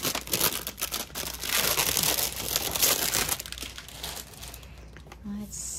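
Packaging of ink pad sets torn and opened, busy crinkling and crumpling of plastic and paper up close, fading into quieter handling near the end.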